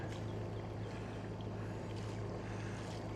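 Sailboat motoring under engine through a harbour, a steady low engine drone with water wash and light wind, constant and close throughout.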